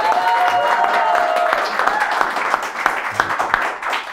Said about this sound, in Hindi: अल्ताफ रजा साहब का जोरदार तालियों के साथ।